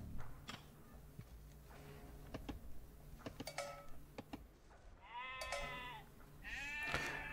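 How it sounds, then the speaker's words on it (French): Sheep bleat several times in Age of Empires 2, the calls standing out over clicking game sounds and a steady background hum. "Trois moutons pour nos braves villageois."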